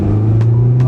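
A Honda Civic Si engine revving hard, a loud, close, sustained mechanical drone with steady pitch over a short burst.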